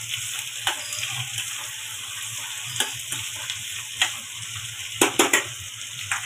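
Onions and garlic fry in a pan with a steady hiss and sizzle, broken by occasional sharper stirring scrapes and clinks, heard close and without talk.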